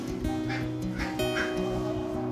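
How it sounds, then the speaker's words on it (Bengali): Ducks kept at a house across from an open window quacking outside, a few repeated nasal calls in quick succession, moderately close and clear. "হাঁস ডাকছে"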